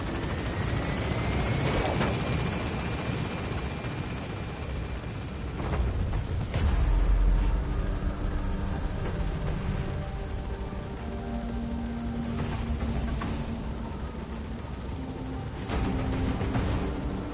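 Helicopter in the video game Metal Gear Solid V climbing after pickup at a landing zone, a steady loud rotor drone with a rising whine, broken by a few sharp bursts and thumps, with no talk.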